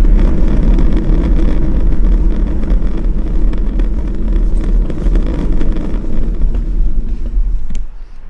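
A 1973 VW Beetle 1303 Cabriolet's air-cooled engine turns over, giving a steady, loud, rough mechanical churn that runs throughout before dropping away abruptly at the end.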